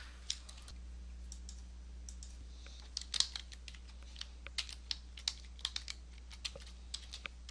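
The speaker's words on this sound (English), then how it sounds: "let's type our caption" Typing on a computer keyboard, with soft clicks in loose irregular bursts that come closer together in the second half, over a steady low room hum with no talking.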